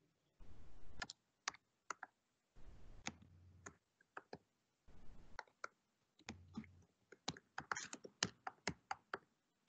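Computer keyboard typing in bursts, with quick runs of clicks and separate key taps spread over several seconds, fairly close and with no talk over them.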